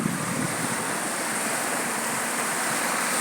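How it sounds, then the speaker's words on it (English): Ocean surf washes steadily onto a beach, a dense, continuous broadband roar of breaking water, loud and close with no gaps or talking. "You may prefer the sounds of the ocean, rhythmically washing up on a beautiful beach like I'm experiencing."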